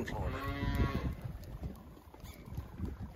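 Cattle heifers low and moo in a pasture, one long drawn-out call standing out near the start before fading into quieter rustling and softer lowing; the herd includes blue and big white bred heifers.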